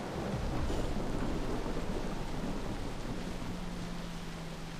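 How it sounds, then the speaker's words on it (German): Steady rain with rumbling thunder from a thunderstorm in the Far Cry 3 video game, a dense continuous wash of rainfall and low rolling rumble throughout, with no talking. "Oh, es regnet. Und Gewitter."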